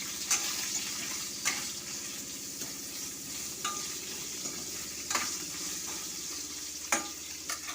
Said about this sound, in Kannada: ಸ್ವಲ್ಪ ಚೆನ್ನಾಗಿ ಫ್ರೈ ಆಗುತ್ತೆ